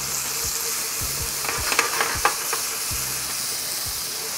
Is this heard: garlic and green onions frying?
yes